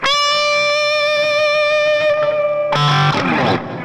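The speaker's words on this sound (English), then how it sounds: "if you've got a whammy bar and lots of feedback" An electric guitar holds a long, singing feedback note that suddenly lurches into a noisy, distorted whammy-bar pitch dive near the end.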